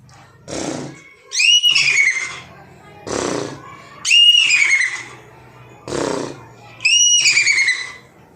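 A voice imitates a horse neighing, with three high, wavering whinny-like calls, each preceded by a breathy, rougher vocal burst, close and fairly loud.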